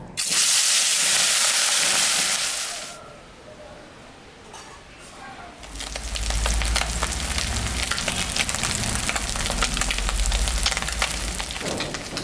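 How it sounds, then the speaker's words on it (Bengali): Small punti fish seasoned with salt and turmeric frying in hot oil in a home kitchen: a loud, close, steady sizzle that eases off briefly, then surges back with occasional utensil clinks and a low rumble. "মাছটা এখন আমি ভাজবো।"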